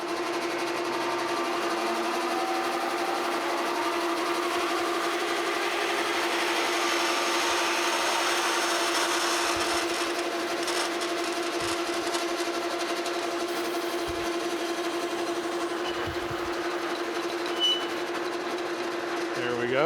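A 13/16 drill bit bores into a workpiece on a Monarch Model K lathe while machining a clutch bushing, a steady mechanical whir and hum held nearby for the whole stretch, with no voices.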